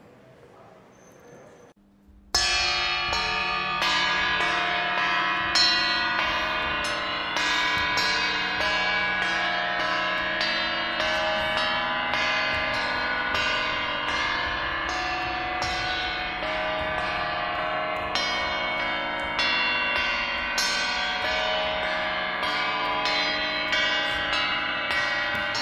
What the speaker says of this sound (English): The bells are so low and resonant that you can't hear the exact pitches very well